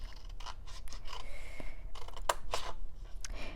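Scissors cut a scored cardboard box for a Christmas ornament craft: a series of close, crisp snips and scraping crunches in quick irregular succession over a faint background hum, with no talking.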